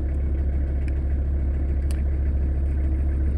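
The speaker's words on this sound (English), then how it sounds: "I should now just be able to start up my van just with a screwdriver by spinning that." A VW T4 van's engine runs steadily after being started with a screwdriver in place of the ignition switch, a constant low idle rumble with faint clatter and no talk.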